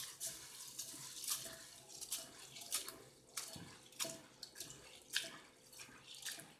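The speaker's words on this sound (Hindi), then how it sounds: "इनको एक दफ़ा धो लेते हैं साफ पानी से" Water sloshes and splashes in irregular bursts close by as hulled lentils are swished and rinsed by hand in a bowl of clean water, fairly quiet.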